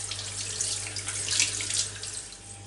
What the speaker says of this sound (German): das Händel innen und außen gründlich zu waschen. Und zwar mit kaltem Wasser